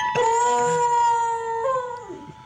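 A beagle howls while playing, one long, wavering, tuneful howl that bends upward, holds, then slides down and fades, loud and close with no talk over it.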